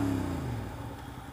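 Suzuki SV650S motorcycle engine droning steadily while being ridden on a road, a mid-pitched hum with a slight rise at the start, moderately loud and continuous with no talking.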